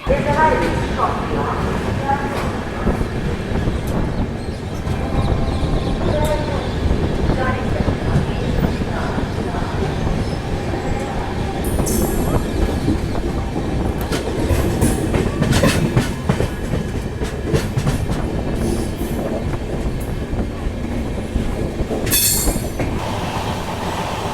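A sleeper class express train pulls out of Merta Road station in India, with a continuous loud rumble, rhythmic clickety-clack of wheels over rail joints and occasional squealing, heard from inside the carriage with voices around.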